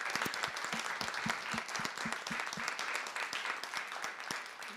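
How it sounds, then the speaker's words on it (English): Audience at a research-to-practice symposium claps in a steady round of applause, dense and continuous throughout, with a few sharper individual claps near the front. "Yes, round of applause"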